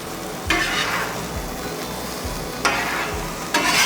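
Bacon sizzles steadily with Brussels sprouts on a covered grill, a constant broadband frying hiss with a few louder bursts as the food is stirred and moved around.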